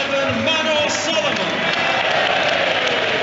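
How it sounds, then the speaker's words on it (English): Football stadium crowd at an FA Cup tie between Fulham and Leeds United, a dense roar of cheering and applause greeting a substitute, with a commentator talking over it. "And there's the cheer for Mano Solomon."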